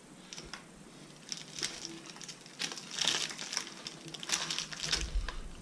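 A knife cuts into a wrapped block of food, probably brie cheese served alongside smoked sockeye salmon. The plastic wrapping gives close, irregular crinkling and crackling in scattered bursts, with no talking.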